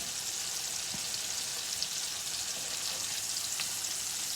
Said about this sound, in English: going to cook the chicken breast until golden on first side